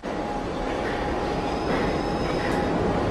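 A train pulls out of a station bound for Manchester, giving a steady rumbling roar of wheels on rails with a faint high squeal, continuous and fairly loud with no voices.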